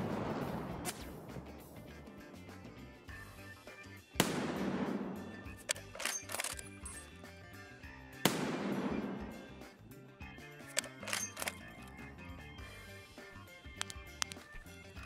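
Gunshots ring out in Escape From Tarkov on Customs: three loud, echoing reports spaced about four seconds apart, each trailing into a long rumble, with scattered quieter pops and clicks between.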